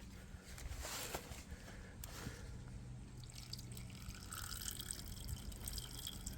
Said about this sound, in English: let me pour some water in there with it, just to wash it down into the crankcase